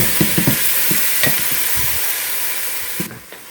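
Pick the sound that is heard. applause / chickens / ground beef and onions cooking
ground beef and onions cooking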